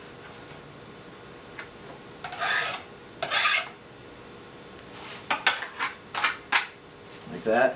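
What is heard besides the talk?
scraping snowboard wax into a small container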